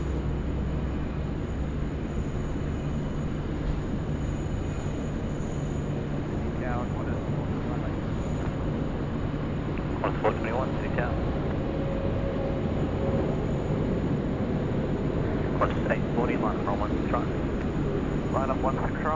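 American Airlines Boeing 777-300 landing on runway 16 right, a broad steady roar of jet engines lasting throughout, loud and sustained, with talk from people nearby over it.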